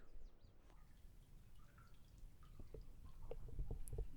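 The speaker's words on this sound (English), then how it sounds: "That is the sound of the tide trickling into a lava tunnel that has met the sea." Tide water trickles into a collapsed lava tunnel beside the sea: faint, scattered drips and small liquid plinks over a low, hollow background rumble.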